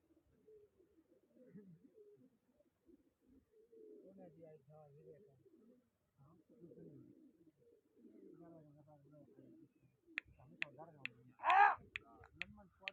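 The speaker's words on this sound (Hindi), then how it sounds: "कबूतर की आवाज" Faint pigeon cooing repeats in soft low phrases, with a louder sharp call and a few clicks near the end.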